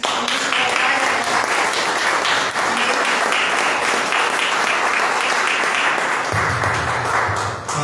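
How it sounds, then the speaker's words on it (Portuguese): A church congregation claps together in praise, loud and close, a dense, steady stream of hands with voices mixed in and a low hum entering near the end. "Vamos louvar o Senhor nessa noite com palmas"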